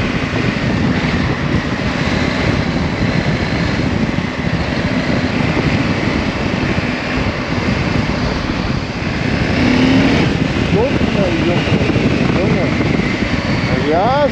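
A Husqvarna Norden 901 motorcycle is ridden on the road, its engine roaring loud and continuous under rushing wind noise, with a rider talking over it.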